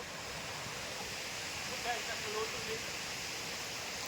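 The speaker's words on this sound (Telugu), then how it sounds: "చుట్టూ కొండలు వాటర్ ఫాల్స్ పైనుంచి పారుతున్నాయి" Boddugudem waterfalls pour down from the surrounding hills as a constant broadband rush of falling water, with faint voices briefly audible beneath it.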